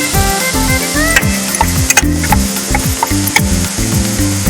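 Egg hakka noodles sizzle loudly in a frying pan while being stirred, the steady hiss broken by sharp scraping and clinking of the spatula, with background music running underneath.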